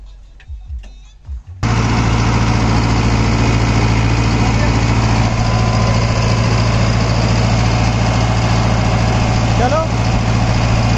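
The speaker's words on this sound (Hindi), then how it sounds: "सुक्का खेत है जी, आइसर ट्रैक्टर खेत ले" An Eicher tractor engine drones steadily and loudly in a dry field after a brief quiet start with some murmuring, running continuously at a low rumbling pitch throughout.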